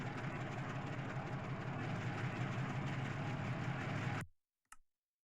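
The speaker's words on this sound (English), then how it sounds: "We're gonna wait for the engine to start up." A diesel engine in a video game runs with a dense, steady rattling roar for about four seconds, then cuts off abruptly, followed by a single faint click.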